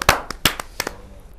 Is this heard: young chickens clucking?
no